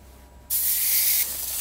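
A torch sears a sous vide entrecote steak, a sudden loud, steady hiss bursting in after a quiet start and then dropping slightly in level.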